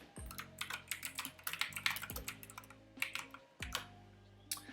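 Someone types on a computer keyboard, with a quick irregular run of close, soft key clicks in short bursts and no voice over them.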